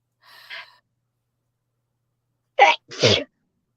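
A soft breathy sound, then a sharp two-part sneeze, loud and close, with silence in between.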